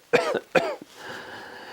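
A person coughs twice in quick, harsh succession, the bursts loud and close, followed by a brief throaty catch and a soft breathy tail.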